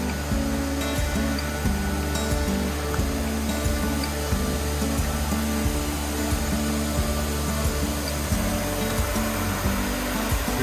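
Upper Cedar Rock Creek Falls waterfall, a steady, dense rush of falling water heard from nearby, continuous and even throughout with no voices.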